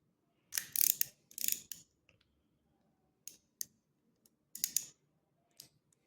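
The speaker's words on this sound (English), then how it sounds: "Let me take my ratchet." Ratchet wrench working a tight nut on a ZTTO PD22 SPD bicycle pedal during servicing: short bursts of close mechanical clicking, several separate ratcheting strokes with pauses between, fairly quiet, no talk.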